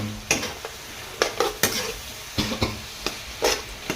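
Wild boar pork stir-fried in a pan for a spicy stir-fry over a modest flame, with a steady close sizzle broken by repeated sharp scrapes and clacks of the utensil against the pan.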